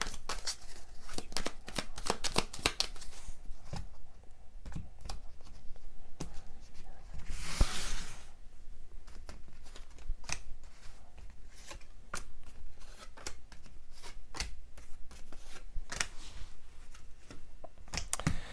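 Tarot cards being shuffled and handled during a reading, a series of soft crisp riffles, flicks and slaps spread irregularly across the stretch, faint and close, with one louder burst partway through and no voices.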